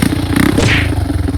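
A motorcycle engine running close by, a steady low rumble with slight revving and some clatter throughout.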